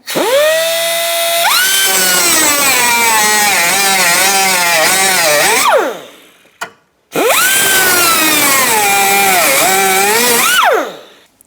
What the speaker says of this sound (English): if you have what we call a cutting wheel, how to take the rivets off without a drill